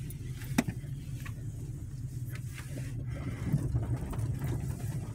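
Car driving along Stewart Street in McKeesport, Pennsylvania, heard from inside as a steady low engine and road rumble with a few light knocks and rattles, no talking.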